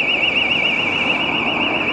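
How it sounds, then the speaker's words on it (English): An alarm goes off outdoors, a loud steady warbling electronic tone that stays continuous and nearby, with faint ambient noise beneath it. "the alarm has gone off"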